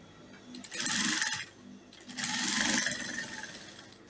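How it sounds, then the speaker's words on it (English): Two bursts of a sewing machine stitching a homemade corset cup for a bustier, each running about a second, with a short pause between them. "I'll stitch."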